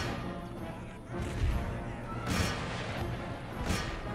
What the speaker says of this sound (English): the artillery's not hitting what I want them to hit